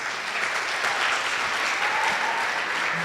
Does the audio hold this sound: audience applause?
yes